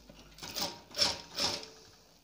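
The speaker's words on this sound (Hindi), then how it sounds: "और इसको हम स्टिच कर लेते हैं।" Sewing machine stitching a one-inch fabric strip onto a kurti neckline, three short close bursts of rapid mechanical whirring with brief pauses between them.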